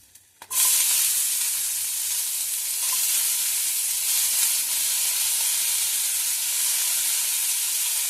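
Onion sizzling in hot oil with dried chilli, cardamom, cinnamon and cloves for a mochar kofta, a loud, steady frying hiss that bursts in after a short quiet start and holds through to the end.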